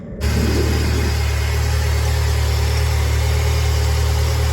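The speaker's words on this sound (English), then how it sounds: "got the car running." A car engine idles steadily after repair work on rusty, leaking lines, starting just after a brief quiet moment and then holding a low, even hum with constant vibration throughout, close and fairly loud with no talking.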